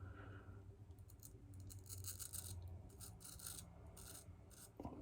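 A small, light safety razor scrapes through coarse facial hair during a wet shave, producing close, continuous rasping strokes in quick bursts, with no talking.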